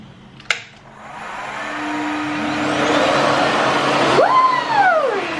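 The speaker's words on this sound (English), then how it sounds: "when you turn it on, it is going to sound like a Hoover." A Revair hair dryer switches on after a brief click and runs as a loud, steady vacuum-like whoosh and whine, with its pitch dipping and rising near the end.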